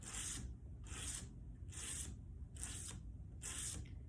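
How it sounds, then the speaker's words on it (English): Scraper with a broken blade drawn lightly along the edge of a PETG drypoint plate, five evenly spaced bright rasping strokes about a second apart, close and steady over a low background rumble. "here's scraping off that edge again with my broken scraper here"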